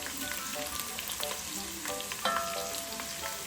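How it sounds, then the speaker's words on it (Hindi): Chopped onions frying in hot oil for matar pulao on a stovetop, cooking until golden brown, with a steady close sizzle and occasional stirring scrapes throughout. "हमने साथ साथ चूल्हा चलाते रहना है, ताकि हमारे प्याज जो है वो एक जैसे गोल्डन ब्राउन हो।"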